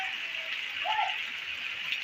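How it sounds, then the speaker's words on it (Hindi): Heavy rainwater rushes continuously along a village road close by, a broad even gush with no voices over it. "देख लीजिए कितना तेज़ पानी इधर से निकल रहा है"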